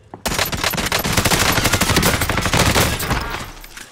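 A light machine gun in Call of Duty Warzone, fired on Rebirth Island: one long, loud, close automatic burst of rapid evenly spaced shots lasting several seconds.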